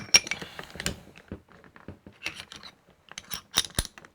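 A metal locking plate on a retractable fall-protection lanyard is turned and seated onto a nut, giving a series of close, irregular clicks, ticks and small metallic clanks.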